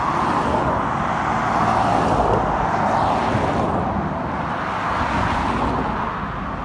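Steady road traffic noise on busy country roads in Lancashire, a continuous broadband roar of passing cars and vehicles, loud and close, heard from a bicycle with no talk.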